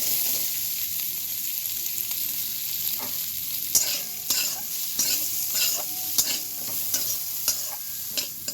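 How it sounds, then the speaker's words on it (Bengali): Grated coconut fries in hot white oil in a wok, giving a constant close sizzle punctuated by regular scraping strokes of a spatula stirring against the metal. "এবার আমি তেলের মধ্যে আগে থাকতে নারকেল কুচিয়ে রেখে দিয়েছিলাম, সেই নারকেলটা তেলের মধ্যে দিয়ে দেবো"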